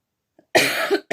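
A woman with a tickly throat gives a close, harsh cough, a brief throat click and then a long rough burst followed by a second cough starting.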